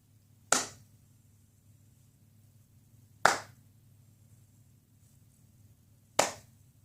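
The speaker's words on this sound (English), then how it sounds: "I had to give it the 3 claps" Three sharp hand claps ring out alone, spaced about three seconds apart, each crisp and near with a short decay into near silence.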